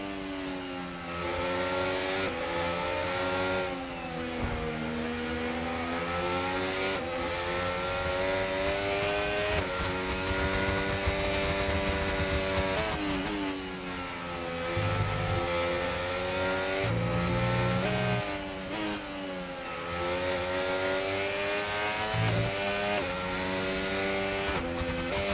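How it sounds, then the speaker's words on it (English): An F1 race car in the video game F1 25 accelerates up to speed, its high-pitched engine revving steadily through the gears with short dips at shifts, close and continuous. "Up to speed now,"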